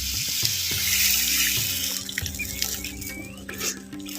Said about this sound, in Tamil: கால் லிட்ரு தண்ணியில் எலுமிச்சம்பளம் சைஸு புளியை கரைச்சி அப்படியே சேர்த்துக்கிறோம்